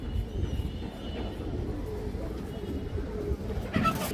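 Pigeons in a loft give soft, repeated coos in a low, continuous murmur over background noise. A brief louder burst comes near the end.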